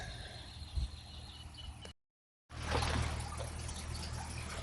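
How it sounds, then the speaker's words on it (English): Grow media for an aquaponics grow bed rinsed under running water: a close, rushing wash of water that cuts out briefly, then returns louder and more turbulent. "I'm going to rinse out all this media"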